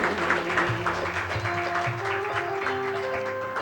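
Steady applause from an audience at a World Environment Day gathering, a dense, continuous patter of clapping holding at an even level for several seconds with no break.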